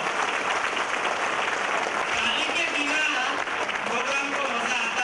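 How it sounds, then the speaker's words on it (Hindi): Loud, dense applause from a large seated audience at the opening of a Hindi-language program, sustained evenly for several seconds with crowd noise and a few voices mixed in. "आज के कार्यक्रम की शुरुआत मुझे ऐसा लगता है जोरदार तालियों से होनी चाहिए"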